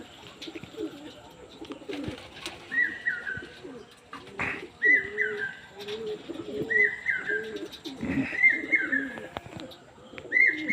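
Pigeons coo in repeated soft, rolling phrases near an evening loft, several calls following one another with brief gaps, along with a few light chirps and faint background noises.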